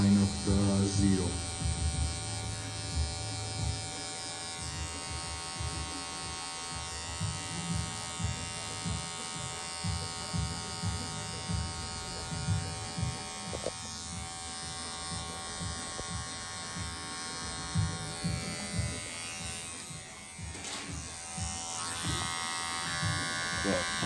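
An electric hair clipper buzzes steadily and close by while cutting a taper fade, a continuous hum running under someone talking throughout.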